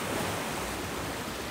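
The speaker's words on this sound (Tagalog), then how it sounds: "maririnig niyo yung hampas ng mga alon" Ocean waves wash ashore at a beach resort in Oslob, a loud, steady broadband roar of surf with no voices.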